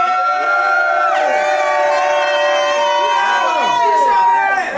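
A crowd on the street in Detroit, Michigan, yells and whoops loudly to pick a winner, with sustained voices and sharp shouts overlapping the whole time and no pause in the roar.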